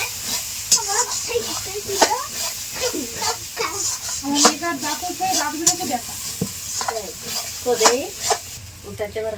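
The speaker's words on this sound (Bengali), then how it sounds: "এরপর একটু নাড়াচাড়া করে নিল।" Salted food is stirred in a sizzling cooking pot, with rhythmic scraping strokes over a steady hiss and a voice talking over the cooking.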